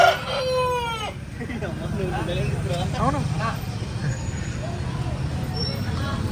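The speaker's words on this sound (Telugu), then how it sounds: "ఈ పెద్ద కోళ్ళు చూడండి" A crowd of large country chickens at a roadside shop, with a rooster crowing loudly up close at the start, then scattered clucks and short calls from the flock, and people talking over steady background noise.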